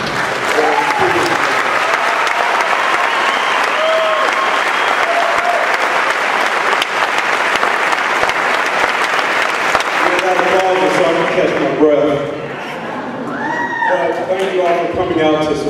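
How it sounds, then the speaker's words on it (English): A large audience at a natural bodybuilding show applauds loudly and continuously, the clapping fading near the end as voices and cheers come through. "put their hands together and a big applause for everyone that put this great production together"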